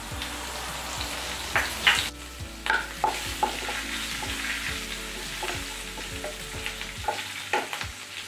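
Dried red chillies and chopped green chillies fry in hot oil with a close, steady sizzle, broken by repeated sharp spoon clicks and scrapes from stirring.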